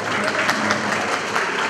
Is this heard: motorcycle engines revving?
no